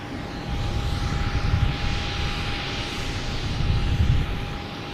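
A British Airways airliner descending toward Terminal E at Boston Logan, its engine roar rising and falling in two swells with a faint steady whine above, no talk.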